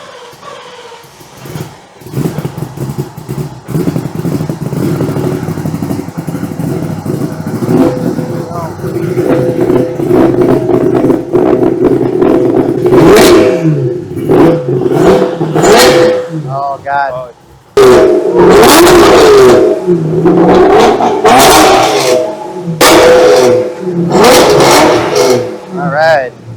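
A V10 Lincoln Continental, rigged to scream like an F1 car, cranks and fires up, then rips through loud, repeated high revs with short pauses between blips, while people react and talk nearby.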